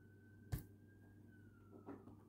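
A distant siren holds a faint, steady tone in the background of a quiet indoor room, briefly interrupted by a thump and a rustle.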